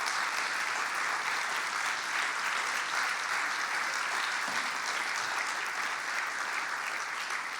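A church congregation applauds in praise during a sermon, a dense, steady wash of clapping that fills the whole stretch at even loudness without any voices.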